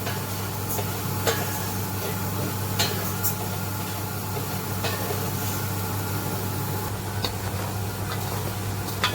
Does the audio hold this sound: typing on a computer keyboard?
no